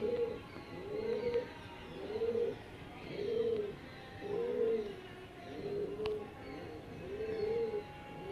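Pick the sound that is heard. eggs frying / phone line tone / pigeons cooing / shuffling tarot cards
pigeons cooing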